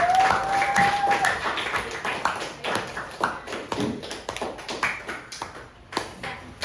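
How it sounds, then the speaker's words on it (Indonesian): A class of students clapping their hands together, loud and close, starting as a dense burst and breaking into rhythmic, spaced claps that fade toward the end, with a brief whistle-like tone at the start. "tepuk tangan buat kita semua"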